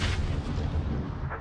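A grenade explodes in the video game PUBG, a loud, heavy, close boom with a low rumble that fills the whole short moment, with no talk.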